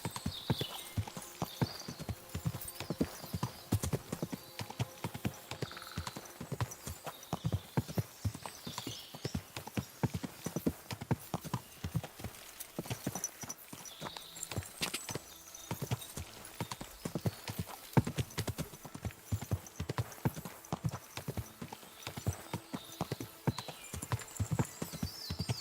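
Horse hooves clip-clop steadily throughout a video game ride near Trosky, a continuous close rhythmic trotting with occasional faint whinnies and no talking.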